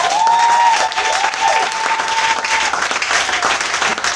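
Church congregation applauding steadily at a service, a dense continuous clapping from many hands with no gaps, with a sustained high tone running through the first part.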